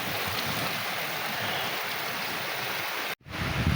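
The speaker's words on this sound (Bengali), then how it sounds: "যাক অনেক বৃষ্টি পড়ছে" Heavy rain pours down over village paddy fields as a dense, even hiss of water that holds steady, then cuts off abruptly near the end before a short burst of rushing noise returns.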